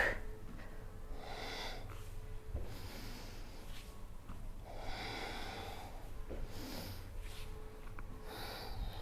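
Slow, deep breaths drawn in and let out during a gentle beginner yoga warm-up, repeating in an even cycle of roughly two-second phases, close and soft over a low steady hum.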